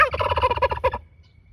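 Turkeys gobbling on a poultry farm in North Florida, a loud, close burst of rapid repeated gobbles lasting about a second before trailing off into quiet.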